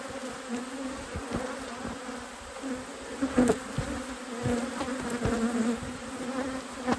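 A dense, steady drone of many honeybees buzzing close around an opened hive in an apiary, with individual insects flitting past the ear now and then; no voices.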